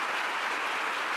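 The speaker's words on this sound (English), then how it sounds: "Let's give Steve another round of applause" Audience applause at a public education forum at Hobart and William Smith Colleges, a brief, fairly faint wash of dense, even clapping from a crowd in a hall.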